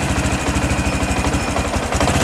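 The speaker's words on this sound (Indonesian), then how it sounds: "tanpa aki pun motor ini sudah menyala." A Honda Supra X 125 PGM-FI motorcycle engine, running without a battery, idles steadily with a fast, even throbbing chug, loud and close, no voices.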